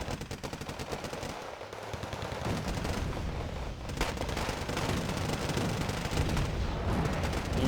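Sustained mortar and machine-gun fire in the war strategy game Wargame Red Dragon, a dense, continuous clatter of rapid shots and thumping impacts at steady loudness, with no voices.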